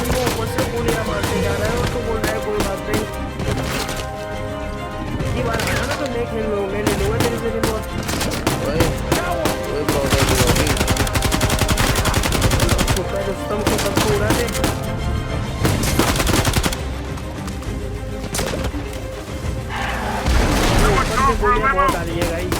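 Rapid gunfire from the action video game Uncharted 4 crackles in bursts of sharp shots and heavier blasts, loud and repeated over game music and sound effects, with someone talking over the action.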